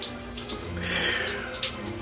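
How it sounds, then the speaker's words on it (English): Water runs steadily from a tap to rinse bleach out of hair, a close, continuous splashing rush with no talking. "now it's time to wash this crap out"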